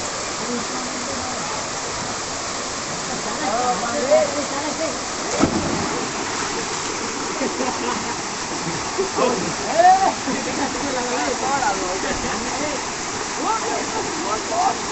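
Verna Spring waterfall at Loutolim, South Goa, pours as a steady broadband rush of falling water with occasional splashes, and voices murmur faintly beneath the continuous roar.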